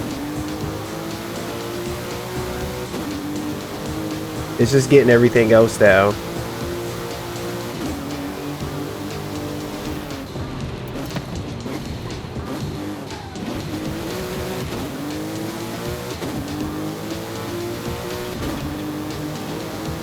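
Racing car engine in Forza Horizon revving hard on a launch, with a loud burst of high revs and tire squeal around the middle, over steady engine drone and game music while someone talks throughout.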